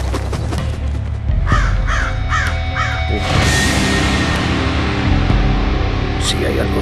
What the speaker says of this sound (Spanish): Cuervo.